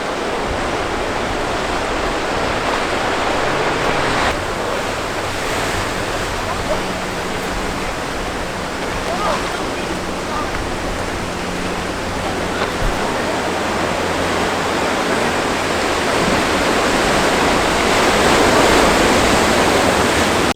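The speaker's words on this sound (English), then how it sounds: "listen and see if you can hear the roar of the waves." Ocean waves along the Big Sur coast make a steady broad roar that swells slightly toward the end, heard at a distance with no talking.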